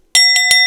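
A small bell rings three times in quick succession, bright and sustained, loud and close.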